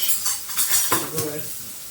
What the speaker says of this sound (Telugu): వేసుకొని కొంచెం బాగా వేయించుకోవాలి. 2 minutes ఫ్రై చేయాలి.